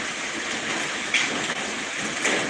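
Steady broadband hiss of rain falling continuously, with a couple of faint brief high clicks over the wash.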